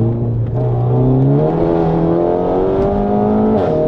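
A modified Renault Megane 4 RS Trophy engine revs loudly and steadily up close, its pitch climbing in stages and holding a harsh, sustained roar.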